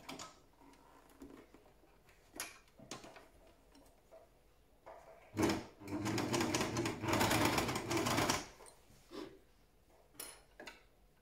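A sewing machine stitches fabric in a few short bursts followed by a longer loud run of rapid mechanical rattling near the middle. Quiet clicks and handling noises fill the gaps, and no one speaks.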